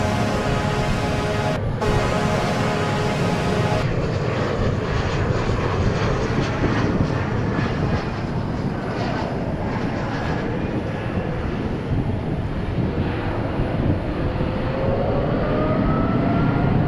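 An airliner taking off at Dallas Fort Worth International Airport, a steady, loud roar of aircraft engines building and rumbling continuously over the whole stretch, heard from outside at a distance.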